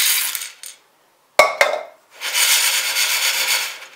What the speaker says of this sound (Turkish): Makarnayı fırın tepsisine döküyorum.